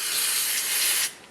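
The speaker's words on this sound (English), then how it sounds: "So we're going to take some brake clean," Brake cleaner blasts in one loud, continuous hiss into the inner bore of a rear brake caliper, stopping abruptly after about a second; close up, no voices.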